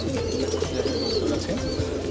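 Pigeons coo nearby on a pigeon farm, low soft throaty calls overlapping continuously against a steady background.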